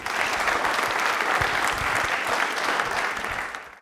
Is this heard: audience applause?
yes